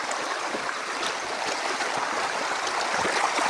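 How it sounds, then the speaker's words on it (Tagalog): Water in a shallow stream rushes and babbles continuously, close by and moderately loud, a steady broadband wash with small splashy ripples and no voices. "Diri na kami sa sapa, mga guys."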